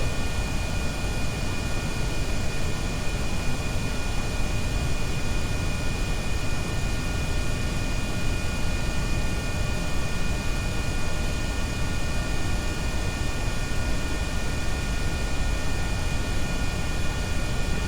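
Aircraft engine droning at low throttle in the Kerbal Space Program video game while circling down toward an airfield, a steady, unchanging hum-like roar with no breaks.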